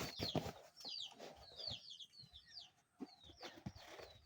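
Two live chickens, brought as a gift, cluck and squawk faintly in a short run of close, irregular calls with brief pauses between them.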